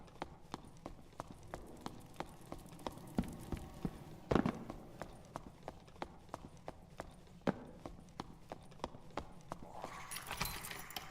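Horse hooves clip-clop in the video game Dark and Darker, a regular run of distinct, fairly close hoof strikes at a walking pace, moderately quiet, with a brief burst of other noise near the end.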